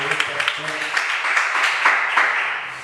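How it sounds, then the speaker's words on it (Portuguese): Church congregation applauding during a Pentecostal-style worship service, a dense, steady wash of clapping with a voice speaking over the start. "Mantenha a sua Bíblia aberta e aplauda ao Senhor."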